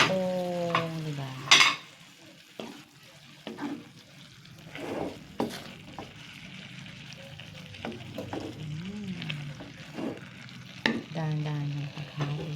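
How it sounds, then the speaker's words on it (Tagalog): Spatula clatters and scrapes through bitter gourd sizzling in a frying pan, irregular stirring strokes over a low sizzle, with faint voices now and then. "Dahan-dahan yung paghalo."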